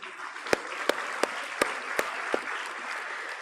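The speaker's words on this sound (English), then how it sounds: "applaud your parents and families again" Convocation audience at IIM Kozhikode applauding parents and families, a steady wash of many hands clapping with a few sharper individual claps standing out at regular intervals, moderately distant and even throughout.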